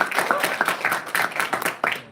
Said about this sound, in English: please give a big round of applause to Aston Villa